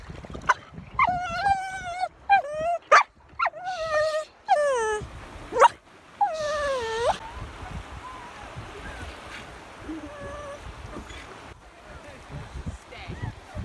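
A dog whimpers and yelps in high, rising cries aboard a boat anchored off a Bahamian island with pigs, with water and wind noise beneath; the crying fades after a few seconds.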